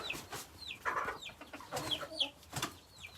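Chickens and hens with their chicks in a farmyard coop corner, giving soft scattered clucks and high chirps of chicks, a quiet steady stream of bird calls with no talking.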